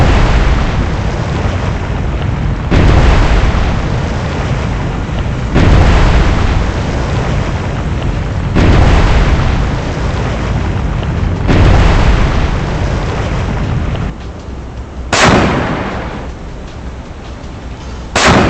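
Vertical-launch missiles fire from a submarine in the naval combat game Cold Waters, loud roaring whooshes arriving in repeated bursts about every three seconds, then a quieter stretch capped by sharp bangs.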